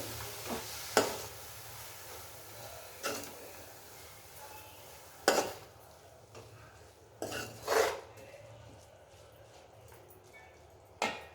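Beetroot halwa stirred with jaggery in a pan over low heat: a few scattered scrapes and clanks of a spoon against metal, separated by quiet stretches, with a faint sizzle underneath.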